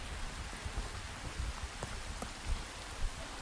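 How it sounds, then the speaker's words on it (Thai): Rain falls steadily outdoors in rural Thailand, a soft continuous patter with a few louder drops, faint and without voices. "แต่ฝนก็ตก"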